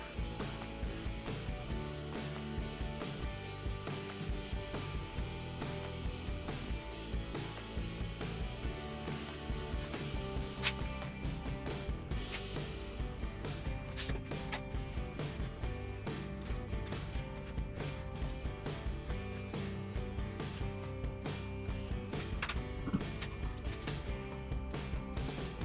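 Clamps ratchet and click over a long stretch while glued segmented wooden bowl rings are pressed together, a close, busy run of mechanical clicking.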